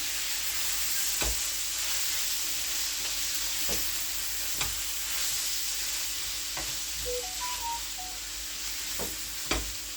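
Ackee and saltfish sizzle steadily in a pan on a stovetop, a constant close frying hiss with a few soft knocks of stirring, no voices.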